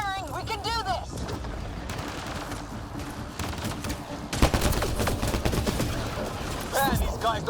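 Rapid gunfire rattles through a Mass Effect Andromeda firefight, dense bursts of shots and a sharp blast midway, with voices calling out between the volleys.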